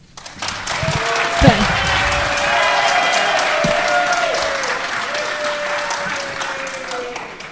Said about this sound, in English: every minute that is spent cheering and clapping